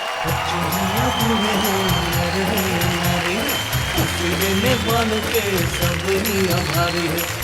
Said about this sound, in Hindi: हम जोरदार तालियां बजाएंगे डॉक्टर सुरेंद्र दुबे के लिए।